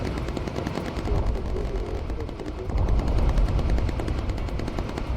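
Bomber turret machine guns firing in the aerial combat video game Bomber Crew, with sustained rapid bursts of dense rattling gunfire. A low engine drone sits underneath, and no voices are heard.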